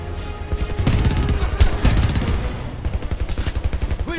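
In the video game Homefront, sustained machine-gun fire crackles with rapid bursts and scattered louder shots and impacts, ending in a fast steady rattle, with some battlefield chatter mixed in.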